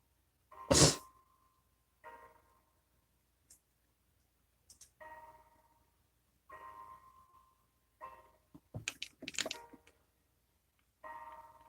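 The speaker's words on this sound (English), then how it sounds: "it keeps making me sneeze" A single sharp sneeze bursts out near the start amid makeup application, followed by scattered small clicks, taps and brief murmured sounds in an otherwise quiet room.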